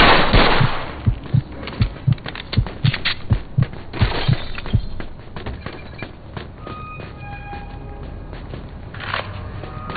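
Army gunfire in the Mafia II Definitive Edition video game: a rapid string of sharp, punchy shots in the first half, followed by thinner scattered crackles and lower rumble.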